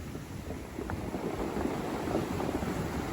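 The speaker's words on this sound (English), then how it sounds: "The force of the water pushing and pulling the rocks around causes them to shift and clack together." At high tide on the Ventura, California shoreline, surf washes over large beach rocks, producing a rumbling, churning wash with faint scattered clacks under heavy wind noise.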